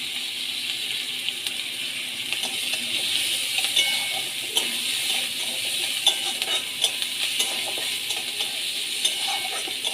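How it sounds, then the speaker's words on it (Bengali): Chopped onion frying in hot oil with panch phoron and whole cumin, stirred in the pan: a steady, close hiss of sizzling with scattered scraping clicks from the spoon, and no voices. "পাঁচ ফোড়ন দিয়ে একটু নেড়ে নেব। ওর মধ্যে পেঁয়াজ কুচি,"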